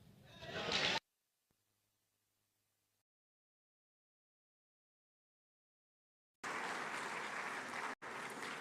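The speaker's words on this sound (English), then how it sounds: "a resounding round of applause to celebrate such a gallant expression of joy" Audience applause at the 30th Afreximbank Annual Meetings, a brief burst of clapping that cuts off into near silence, then returns loud and sustained several seconds later with a short break.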